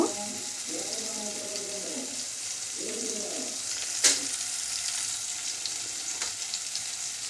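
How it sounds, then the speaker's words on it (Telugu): Chicken pieces frying in oil in a pan, a constant crackling sizzle throughout, with a sharp clank partway through and faint murmurs of voice early on. "చికెన్ ముక్కలు వేసుకుని వేపుకుందాం"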